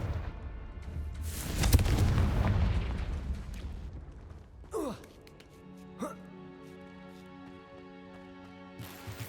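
The Confringo fire spell goes off in Hogwarts Legacy on PC, a loud booming explosion that rumbles for a couple of seconds, followed by a few smaller magical bursts and whooshes fading into quieter game ambience.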